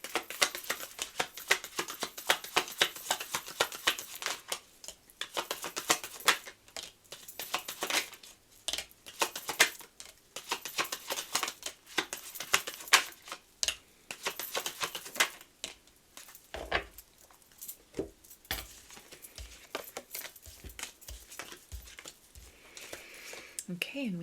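Message cards for a pick-a-card love reading being handled and shuffled, giving soft papery ticks, slaps and rustles in uneven rapid patter under a continuous speaking voice.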